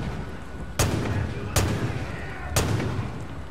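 Three heavy sniper rifle shots in Far Cry 5, spaced roughly a second apart, each a sharp booming crack with a rolling tail, over steady game ambience.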